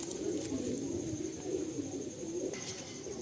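A blue pigeon in a Ranihati loft coos continuously, a close, rolling low warble in repeated pulses over about three seconds, with no talking.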